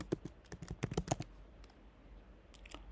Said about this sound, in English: So here I'm going to type, just for an example